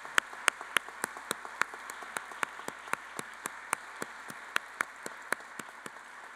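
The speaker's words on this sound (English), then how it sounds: "So let's give them another round of applause." Sparse, light applause from a small audience at BEAR Day 2022, a university event; a few hands clap in a quiet, steady rhythm for several seconds with no voices.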